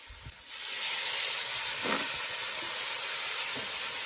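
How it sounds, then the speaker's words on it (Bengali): Hot water poured into a pan of frying soya chunks sets off a sudden loud, steady steam hiss that rushes on without letup, with a faint clink just before it starts. "এবার যে গরম জলটা ছিল সেটা দিয়ে দেওয়া হচ্ছে।"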